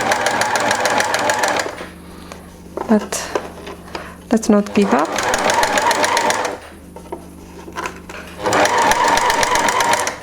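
A domestic sewing machine shirring fabric with elastic thread runs in rapid rhythmic bursts with a steady mechanical clatter. It stops briefly between runs, and a few clicks and a short spoken remark come in the pauses.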